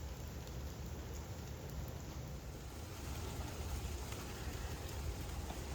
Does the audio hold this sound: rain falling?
yes